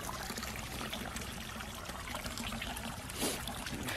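River water trickling and flowing, a steady close babble with a brief louder splash near the end, alone without talk.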